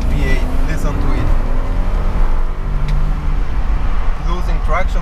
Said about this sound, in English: it's V8. Listen to it.